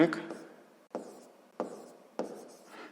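A pen scratching out a maths equation on paper in a sixth-grade lesson, heard as four short, quiet strokes at roughly even intervals, with a teacher's voice faintly present.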